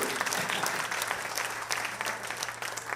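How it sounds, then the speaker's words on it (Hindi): Dense, steady clapping from an audience at an annual day celebration, a loud continuous applause filling the hall without pause over a low hum. "एक बार जोरदार तालियां।"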